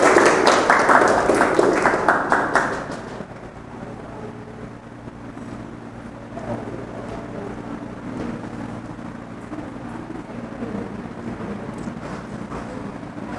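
An audience bursts into loud applause at a high school student council candidate debate, a dense clapping roar lasting about three seconds before dropping to a low hall murmur.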